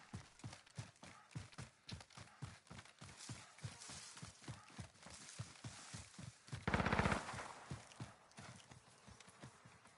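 Rhythmic rapid gunfire from Call of Duty: Warzone, sharp regular shots repeating steadily at moderate distance, with a louder, denser burst partway through.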